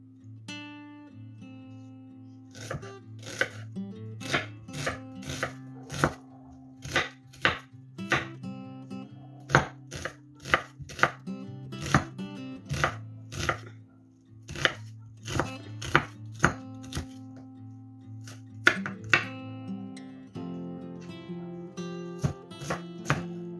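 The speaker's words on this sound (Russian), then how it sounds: "Порежем лук и чеснок" A knife chops onion and garlic on a board in a long run of sharp, fast taps, sometimes in quick bursts and sometimes spaced out, close and clear over a faint background hum.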